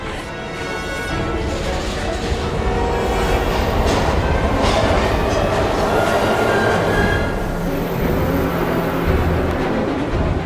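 A train rolls through a scene in the video game Heavy Rain with a loud, continuous rumble of carriages and faint high squealing tones, while a voice speaks briefly above it.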